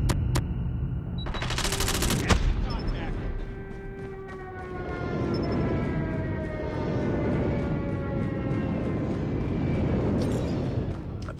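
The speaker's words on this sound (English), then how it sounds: "Sentry gun deployed. Friendly airstrike incoming." Video game combat with a deployed sentry gun firing continuously and a friendly airstrike roaring in, a dense, sustained rattle of automatic fire under a rumbling, whining aircraft drone.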